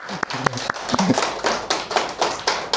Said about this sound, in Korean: 자기 자신한테 박수 한번 주시면 좋을 것 같아요